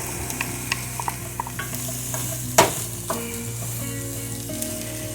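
Onion and red pepper sizzle steadily in a hot pan, with a spatula scraping and knocking through them in a few sharp clatters, one louder scrape near the middle, and no voices.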